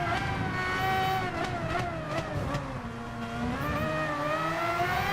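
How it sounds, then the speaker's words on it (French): Car engine accelerating in the racing video game Gran Turismo Sport, a steady loud engine tone climbing and shifting pitch through gear changes across the whole stretch, with no talking. "En plus en accélération elle est pas mal comme voiture."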